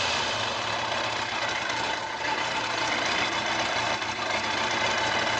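A Kawasaki ZZR1100 motorcycle engine idles steadily at close range, a constant even rumble with no revving, running alone without talk.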